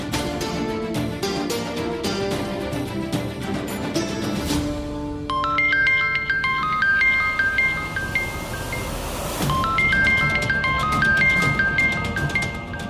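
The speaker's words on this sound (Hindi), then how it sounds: "अरे हटाओ इसको, नहीं उठाना है हमें कोई फोन।" A mobile phone rings with an incoming call during a Hindi TV serial family scene, its melodic electronic ringtone repeating steadily at moderate volume over background music.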